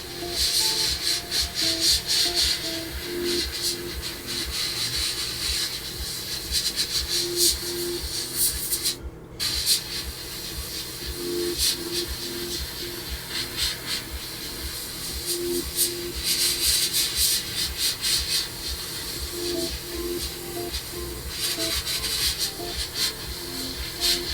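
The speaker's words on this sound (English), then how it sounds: "once again, I clean my airbrush" An airbrush is flushed clean while building a Su-35S Flanker-E model, giving a steady close hiss of spraying air with rubbing and sloshing, broken by one brief silent gap near the middle.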